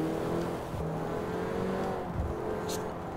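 A car engine revs under load while driving in Forza Horizon 4, with a steady motor drone, pitch swells and brief dips as the car slides out of control, close and continuous.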